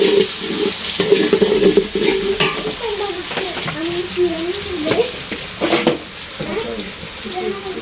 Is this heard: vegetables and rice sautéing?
yes